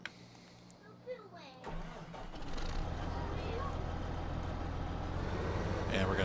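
A Case tractor engine cranks briefly and then catches, settling into a loud, steady running rumble that fills the rest of the moment.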